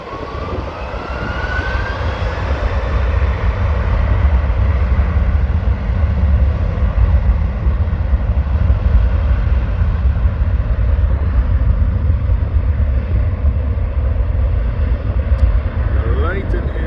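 An Airbus A330 airliner takes off at Amsterdam airport, its engines a loud, steady, deep roar that fills the whole stretch while people talk over it.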